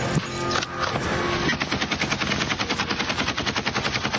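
Automatic rifle fire rattles in combat, first scattered shots and then a steady, rapid, close burst of evenly spaced rounds, loud and continuous with no talking.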